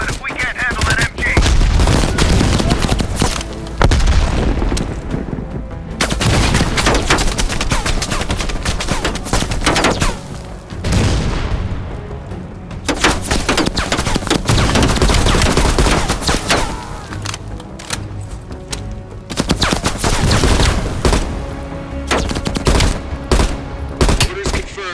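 Dense machine gun fire in the Black Ops Cold War campaign rattles on almost without a break, with heavy overlapping bursts, loud booms and short gaps, mixed with battlefield noise.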